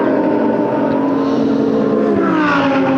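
Race cars of the Ultimate Cup Series, including a Brest Motorsport Porsche, crossing the finish line at Circuit Paul Ricard; a steady, loud engine roar fills the whole stretch, with a rising pitch sweep near the end as a car passes.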